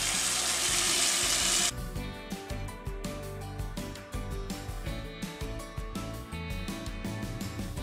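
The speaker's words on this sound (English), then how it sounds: "Here I have a big bucket, but first we have to fill it up with water." Tap water running into a big bucket set in a sink, a loud even hiss at first, then a splashing, gurgling fill with uneven bursts as the bucket takes the water.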